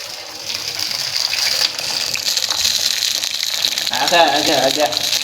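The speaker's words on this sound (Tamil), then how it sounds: "நல்லா முறை பொங்குது பார்த்தீங்களா?" Hibiscus leaf liquid froths and splatters in a pot, a steady fizzing, bubbling hiss that swells slightly toward the end, with a voice speaking over it.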